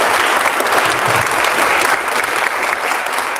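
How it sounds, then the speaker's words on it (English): Sustained audience applause at a farm succession planning speaker series, dense steady clapping from a crowd filling the whole stretch at even loudness with no talk over it. "Let's give them a round of applause."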